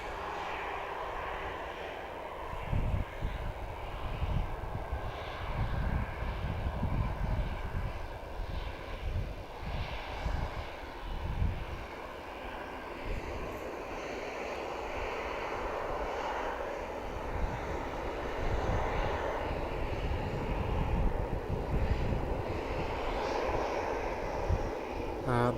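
An EasyJet airliner's jet engines roar steadily and loudly as it taxis onto the runway, a continuous broadband rumble with a faint whine above it that holds throughout.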